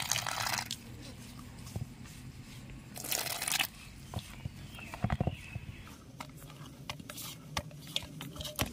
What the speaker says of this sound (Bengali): এবারে আমি অল্প অল্প করে জল দিয়ে মেখে নেব